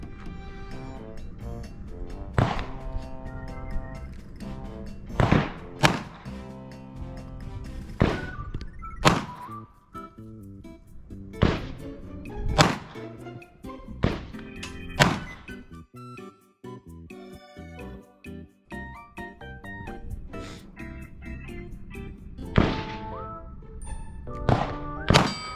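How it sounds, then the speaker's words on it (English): Single pistol shots from a Glock 45 or Taurus G3 handgun, a dozen or so sharp cracks fired at irregular intervals, some close and loud, others softer, with no talking in between. "this is the first time shooting this little bad boy"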